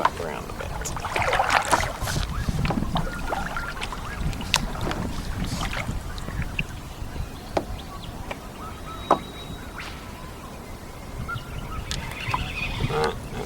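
A kayak on Lake Kurwong is turned around with paddle strokes, giving splashes and sloshing water under gusts of wind noise, with faint birds and a few sharp knocks against the hull.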